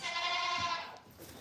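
Nigerian dwarf goats bleat in one sustained, fairly loud call with wavering overtones, fading out after about a second.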